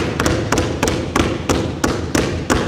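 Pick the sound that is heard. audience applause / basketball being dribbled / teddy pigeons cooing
basketball being dribbled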